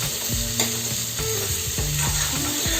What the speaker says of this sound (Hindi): अब हमें ये बहुत ही अच्छे से भूनना है।